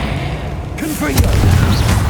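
A Confringo fire spell bursts in the video game Hogwarts Legacy: a deep, rumbling boom swells partway through and lingers, with brief vocal sounds layered over the blast.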